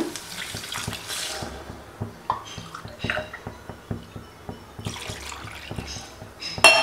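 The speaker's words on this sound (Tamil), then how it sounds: "இப்போது இதில் வந்து தண்ணி ஆட் பண்ணிக்கிறோம்" Water splashes and trickles into a pot for rava pongal, with light clinks of metal and a few louder spurts of pouring.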